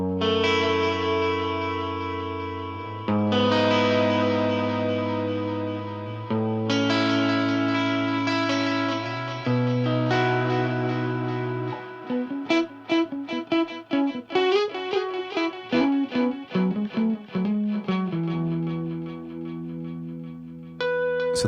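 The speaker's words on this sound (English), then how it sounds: "this is more of an effect kind of sound where you've got a bit of delay and reverb. Still quite crunchy, but now you've got that quarter note delay going on" A crunchy electric guitar played through Ableton stock plugins rings out sustained chords and then quicker picked notes, each repeated by a quarter-note delay and washed in reverb, with no talking.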